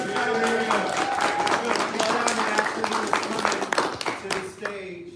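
An audience claps for a performer at a live show, a burst of scattered clapping with music beneath and people talking over it before it tapers off.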